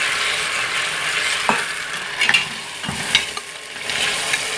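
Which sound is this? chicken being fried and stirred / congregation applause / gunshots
chicken being fried and stirred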